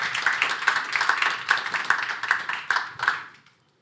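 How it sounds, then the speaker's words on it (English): An audience at a hybrid business event on B2B commerce applauds its speakers. Fairly close, lively clapping pulses steadily for about three seconds, then dies away quickly into silence. "Let's give a big round of applause to our speakers."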